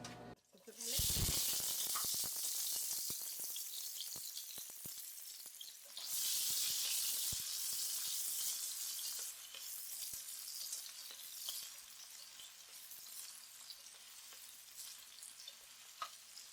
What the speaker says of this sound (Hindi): सबसे पहले ऑयल डालेंगे, हाफ कप ऑयल डाल दें, हाफ कप घी डाल दें